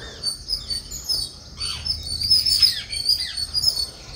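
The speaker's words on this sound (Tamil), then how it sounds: "மயில் வந்து நம்ம தோட்டத்தில் உலாவிக்கிட்டு இருக்கோம்." Birds calling and chirping in a rural vegetable garden at dawn, where a peacock is wandering; bright, repeated calls stand out over a steady outdoor background with no talking.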